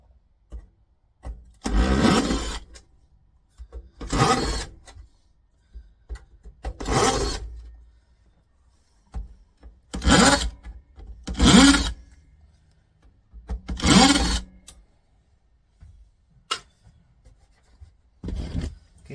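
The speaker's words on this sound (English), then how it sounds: "See, lots of screws. We'll get into them and get them all out." Screws come out of the base of a Kenwood stacking stereo radio and amplifier unit in about eight separate whirring bursts of a driver, each lasting a second or two, with short quiet pauses between them.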